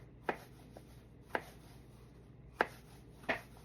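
A knife cuts vegetables into thin slices on a board with four distinct, crisp chops spaced about a second apart over quiet background, and no talking.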